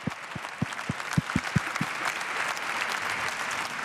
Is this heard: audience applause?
yes